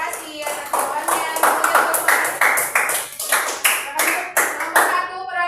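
An elementary school class claps for a group, a near, crisp burst of rhythmic, fairly synchronized hand claps with children's voices mixed in.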